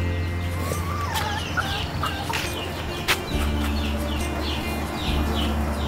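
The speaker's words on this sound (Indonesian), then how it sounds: "Ayam, ayam. Mana kau ayam? Tengok ayam." Hens cluck and chatter over a steady low hum on a village morning, with a few scattered bird calls and one sharper squawk partway through.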